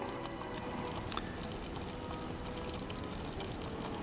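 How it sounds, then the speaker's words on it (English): Water is brushed or poured down the sides of a pan of cooking toffee candy, giving a soft, continuous wet trickling and splashing close by, with no talking. "I'm going to go ahead and wash down the sides of the pan again"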